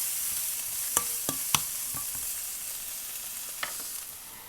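Onions sauté in a pan with fennel seeds and asafoetida for a Jaffna chickpea curry, a constant hissing sizzle broken by a few sharp clicks and taps of a spoon stirring against the pan.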